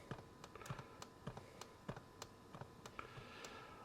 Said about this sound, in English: I think somehow maybe the original ZX81 keyboard is more responsive, to be honest.